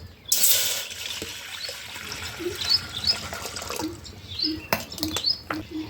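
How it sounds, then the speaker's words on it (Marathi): Water poured into a cooking pot set up to boil drumsticks in a rural kitchen, a loud splashing pour at first easing into trickles and drips, with faint birdsong around. "पहिलं पाणीच ठेवते."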